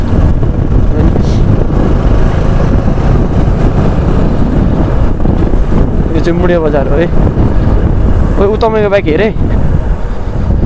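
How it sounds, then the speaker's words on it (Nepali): Strong wind buffeting the microphone outdoors near a market road, a loud continuous low rumble throughout, with a person talking over it and brief whistling bird-like chirps in the second half. "अब विन्डले कति हानिरहेको छ होइन"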